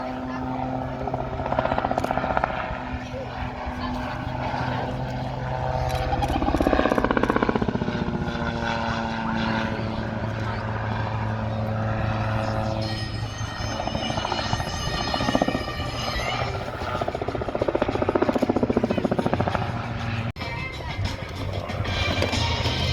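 An Autogyro Europe Calidus gyroplane of fiberglass, carbon fiber and aluminium, driven by a 100 or 115 horsepower Rotax engine, drones loudly as it passes at the Midlands Air Festival 2024, its rotor and engine pitch bending during the pass.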